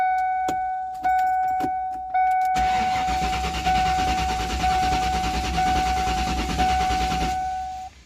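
A 1994 Ford Mustang convertible engine cranks in several short bursts, then one longer continuous crank that never catches, ending abruptly, loud and close.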